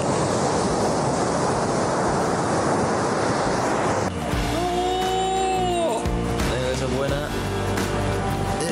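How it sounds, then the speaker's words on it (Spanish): Waves breaking at a surf spot with a sandbar and a channel, a light offshore breeze over fairly calm sea, give a steady loud roar of surf and wind, with a tonal engine-like hum joining partway through. "la verdad que hay muy buenas olas, una brisita de viento offshore, el mar bastante planchado"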